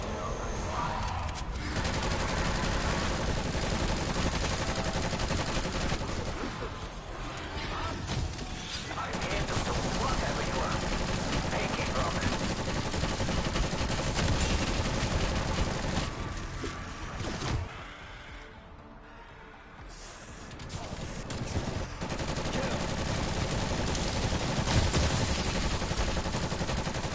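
Sustained SMG gunfire in Call of Duty Black Ops Cold War Zombies, dense loud rapid bursts almost continuous across the stretch with a short lull near the end.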